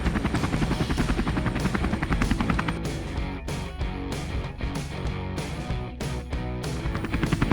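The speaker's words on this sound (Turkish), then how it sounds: "Bir helikopter" A toy helicopter thrums loudly and steadily, its rotor giving a rhythmic chopping beat over a constant engine whine.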